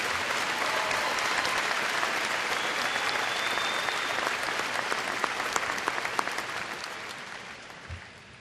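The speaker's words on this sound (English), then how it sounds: "Please join me in a round of applause for this group of people" Audience applause at the Davison High School 2015 graduation ceremony, steady dense clapping from a large crowd throughout, loud and sustained before tapering slightly at the end.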